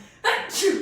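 A single abrupt sneeze bursts out after a quiet moment, a sharp intake followed by a hissing release, close and fairly loud.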